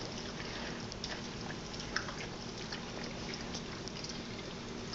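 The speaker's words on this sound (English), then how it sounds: "So we're gonna add a little bit of water there" Water pours and bubbles into a cooking pot of carne guisada, a steady close wash of liquid noise with a faint low hum and no voices.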